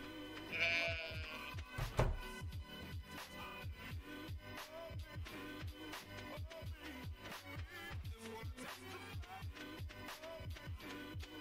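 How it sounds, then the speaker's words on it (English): Sheep bleats from Stardew Valley sound over a steady, rhythmic game soundtrack, a couple of brief bleats standing out near the start before the music carries on alone. "Sheep."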